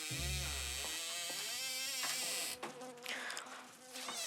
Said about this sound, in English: Lots of flies.